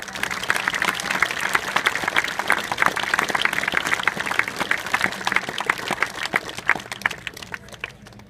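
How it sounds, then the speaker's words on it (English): A crowd applauds volunteers at a baseball opening ceremony, steady dense clapping lasting the whole stretch at moderate loudness with some crowd murmur underneath, tapering slightly at the end. "Please give them a round of applause."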